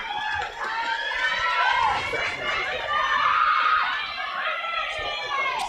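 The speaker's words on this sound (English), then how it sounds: "Crowd getting very vocal here" Spectators at a women's field hockey final between ANU and St Patrick's raise a loud, continuous mix of shouting and chatter, with individual voices rising and falling over the crowd noise.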